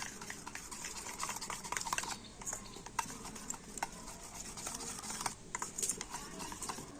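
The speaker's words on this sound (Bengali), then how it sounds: "বেকিং পাউডার দিয়ে ব্যাটারটাকে কিন্তু আবার একটু ভালো করে ফেটিয়ে নেব" Semolina batter mixed with baking powder is beaten by hand in a bowl, a quick steady tapping and scraping rhythm at close range, fairly soft throughout.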